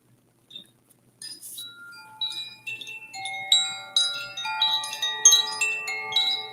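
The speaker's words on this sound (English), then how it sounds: "I do have the beautiful chimes" Bright metallic chimes ring out one after another, starting sparse and building into overlapping, sustained tones that shimmer and decay gently in a quiet room.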